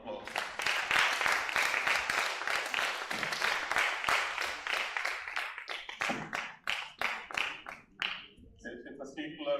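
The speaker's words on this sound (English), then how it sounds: "give Mr. Victor another round of applause" Enthusiastic audience applause at a university lecture on market research, loud dense clapping for about six seconds that thins into scattered claps before a voice begins speaking.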